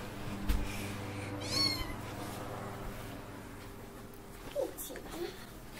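A cat meows a few times at a close distance, with soft voices and household noise in the background.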